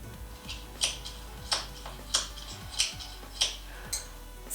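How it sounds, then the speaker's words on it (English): A pair of scissors snipping in a regular series of about six sharp, crisp cuts roughly every two thirds of a second, close up and fairly quiet, with no voices. "Scissors? It's scissors!"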